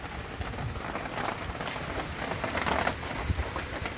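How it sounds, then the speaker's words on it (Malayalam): Heavy rain falls outside, heard from indoors as a continuous broad rushing wash of fairly even loudness with no other clear sounds. "പുറത്ത് നല്ല മഴയാണ്, അതാ നമ്മൾ ഉള്ളിലോട്ട് മാറ്റിയത്."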